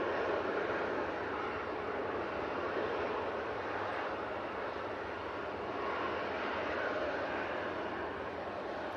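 Aircraft landing at Manchester Airport in stormy weather, a steady broad engine and wind roar holding at constant loudness throughout with no voices.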